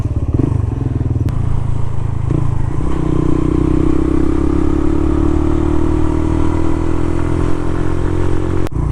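A Suzuki V-Strom motorcycle rides along a road in Cornwall, its engine droning loud and close with a rising pitch as it accelerates, plus a few clattery knocks and wind rush.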